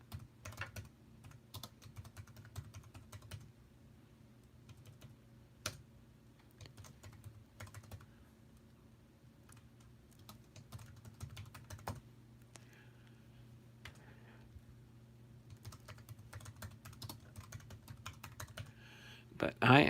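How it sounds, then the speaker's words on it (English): Fingers type on a computer keyboard in a quiet room, irregular soft clicks and occasional louder keystrokes spread throughout over a low steady hum, with a brief burst of faster typing near the end. "You'll probably hear me typing away."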